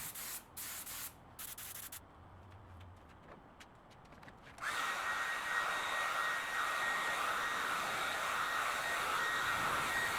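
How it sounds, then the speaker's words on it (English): A hair dryer switches on midway and blows with a steady, loud whooshing hum and a thin high whine while paint dries on a recliner backrest, after a quieter stretch of scattered rubbing noises. "The hairdryer guy works real fast."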